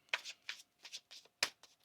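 A tarot card deck is shuffled by hand in quick riffling bursts, about five close, crisp strokes in a quiet room.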